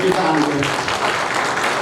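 Audience applause at a folk song anthology event, a brief, steady burst of massed clapping with voices talking over it.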